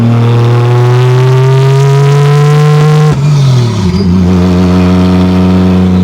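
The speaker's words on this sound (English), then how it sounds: "Sounds like we got a boost leak." A 1987 Toyota Supra with a swapped 2JZ-GE turbo engine revs loudly and steadily, pitch climbing, then drops sharply with a hissing leak from lost boost before settling into a rough idle.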